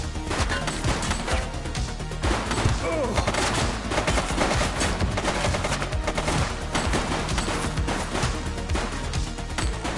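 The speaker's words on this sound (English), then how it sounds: "Shots fired!" Rapid gunfire rattles in The Precinct, a loud, sustained barrage of overlapping shots and bursts that runs for about ten seconds, with a few voices shouting underneath.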